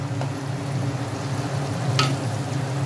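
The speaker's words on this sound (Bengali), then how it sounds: "একটু জল দিয়ে নেড়ে চেড়ে নেব।" Chilli chicken cooking in a pan with a little water, a steady low sizzle and bubbling throughout with a brief scrape of stirring near the end, close and continuous with no voices.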